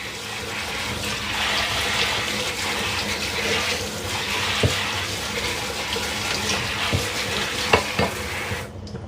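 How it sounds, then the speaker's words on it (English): Water runs from a kitchen sink tap as something is rinsed under it, a continuous splashing stream broken by a few knocks and clatters, ending abruptly. "I'm just rinsing it off real quick"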